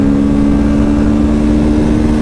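A twin-cylinder motorcycle engine growls steadily at close range, a loud, dense rumble with a constant low hum and no gaps, heard alone without voices.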